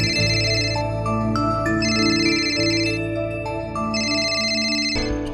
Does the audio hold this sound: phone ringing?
yes